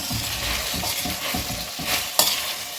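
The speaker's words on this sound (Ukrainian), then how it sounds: "Все добре обсмажуємо. Кольорабі теж гарно так обсмажилося." Pork belly and kohlrabi fry together in a pan for a ragout, sizzling loudly and close with rhythmic scraping stirs and one sharp clack of the utensil near the end.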